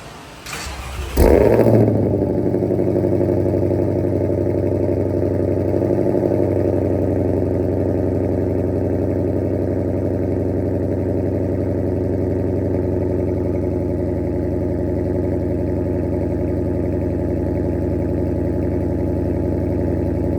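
A 2020+ Shelby GT500 V8 fitted with a Lethal Performance X pipe exhaust starts up with a sharp burst, then settles into a loud, steady, deep idle that rumbles on alone for about twenty seconds.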